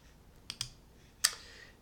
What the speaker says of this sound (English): So I'm going to click that button